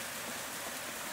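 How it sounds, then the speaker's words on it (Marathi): Heavy summer rain pours down, heard from inside a shed, as a dense, steady hiss that stays even and unbroken throughout. "बघा भरपूर पाऊस झालाय।"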